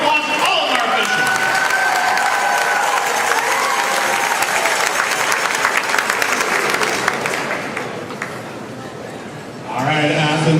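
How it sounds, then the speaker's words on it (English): A crowd at a roller derby bout applauds the officials with loud, sustained clapping and some cheering, while an announcer talks over the arena noise before it fades near the end. "Give a big round of applause to all of our officials."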